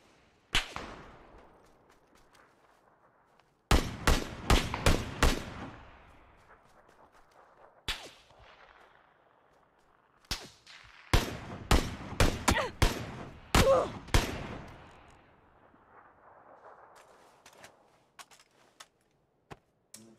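Gunfire in the battle royale game PUBG: sharp, cracking shots in quick clustered bursts separated by quiet gaps, each volley a rapid string of loud reports with short echoing tails, no talking.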